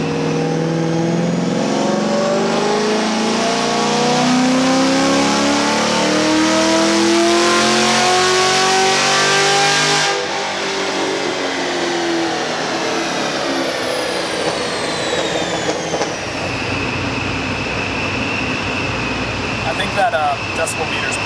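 Car engine revving with the airbox lid removed, a loud sustained roar with rising and falling pitch, dropping to a steadier drone partway through, with voices speaking underneath.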